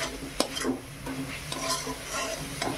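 Sweet pitha filling, made with Amul butter and crushed cardamom, gets stir-fried in a wok with a soft sizzle and repeated scraping and stirring strokes, close by and with no talk.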